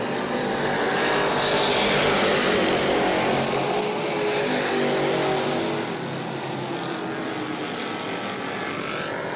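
Several Super Stock race cars roar past on the New Smyrna oval in a continuous loud engine drone, the pitch shifting as they pass, with no talking.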